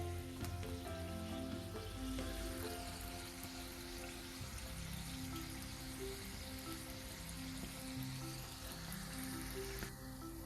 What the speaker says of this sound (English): We'll fry them on both the sides properly.